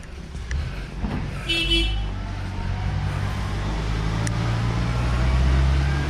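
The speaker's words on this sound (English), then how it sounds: "There is an army of lift trucks here." Lift trucks move around inside a seed plant, a low rumbling motor drone building steadily with a short horn-like toot early on, heard in a large echoing indoor space.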